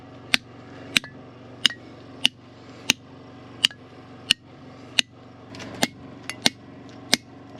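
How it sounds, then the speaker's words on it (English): Hammer blows drive wedges into a picture stone slab at a quarry, ringing sharp metallic strikes landing about every two-thirds of a second, loud and close with a low hum beneath and no talk. "when I hammer on it, it doesn't move at all now"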